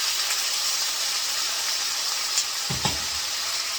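Water poured into a hot pan of fish hisses and sizzles steadily, with a couple of brief bubbling spits near the end, close and fairly loud throughout.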